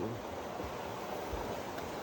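Ocean waves at a rocky beach on Bukit Batu Putih, Melaka, heard as a steady broadband wash of surf, faint and continuous, with no distinct breaks.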